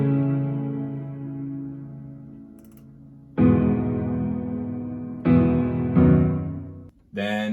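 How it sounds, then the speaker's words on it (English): Sustained piano chords from an EDM song intro ring out alone, a long held chord fading before three sharper restrikes around the middle and end, loud and close. "So what you hear now is these main piano chords."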